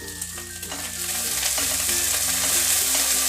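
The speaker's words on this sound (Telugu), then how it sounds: "ఈ పచ్చిమిర్చి ఇలా వేగిన తర్వాత ఈ కొత్తిమీర కూడా వేసుకొని" Green chillies and coriander with stems sizzle in hot oil in a pan for a tomato coriander chutney, a steady close frying hiss with faint stirring scrapes.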